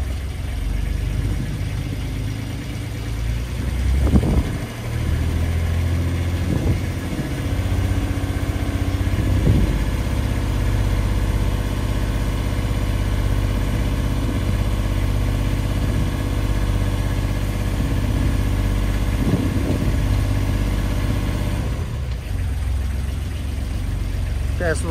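Diesel engine of a Catalina 30 sailboat idling steadily after a fresh start, a constant low rumble running for the whole stretch with someone talking over it at times.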